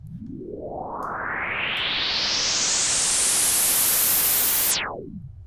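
Synthesized noise riser: a broadband hiss that sweeps steadily upward and swells in brightness over about four and a half seconds, then cuts off abruptly into a short fading tail, heard alone.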